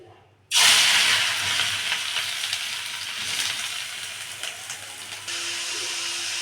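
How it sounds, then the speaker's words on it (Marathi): Grated carrot drops into hot ghee with a sudden loud sizzle that starts abruptly and then settles into a steady, slowly fading frying hiss, close and unaccompanied by speech. "तूप चांगले गरम झाले आहे. ह्यामध्ये हे गाजर किसलेले टाकून घेऊया."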